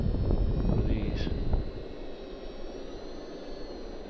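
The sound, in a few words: Parkzone VisionAire RC plane flying low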